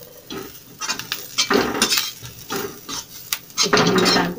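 Kachori masala with coriander being stirred and roasted in a pan, with repeated scraping strokes of a spoon against metal and faint sizzling in irregular bursts, close and fairly loud, no voices.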